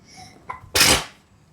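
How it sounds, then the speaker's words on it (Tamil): A person sneezes while cooking mushroom biryani: a short sharp intake, then one loud, close, explosive sneeze that fades quickly into quiet kitchen background. "சமைச்சிட்டு இருக்க தும்மிட்டு இருக்கியா நீ?"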